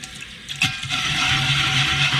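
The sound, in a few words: hot water running into sink with cast iron pan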